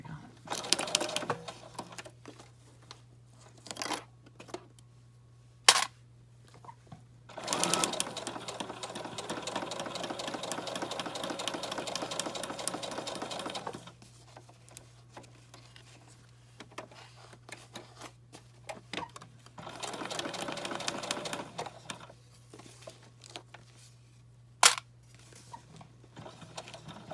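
A sewing machine stitches accordion journal covers together in bursts of rapid mechanical whirring, several runs of varying length separated by quiet pauses, handling clicks and a low steady hum throughout.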